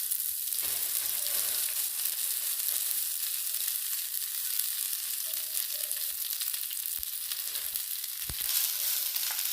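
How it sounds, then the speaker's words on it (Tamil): Moringa leaves fry lightly in a little oil in a kadai, a steady close crackling sizzle that runs without a break, with a few faint clicks of stirring. "இப்போ அதே கடாயிலேயே கொஞ்சமாக எண்ணெய் ஊற்றிக்கலாம் முருங்கைக்கீரையை லைட்டாக ஃப்ரை பண்ணிக்கலாம்"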